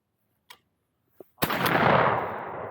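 A single shotgun blast at clay target shooting, sharp and loud with a long fading tail outdoors, preceded by a couple of faint clicks in near silence.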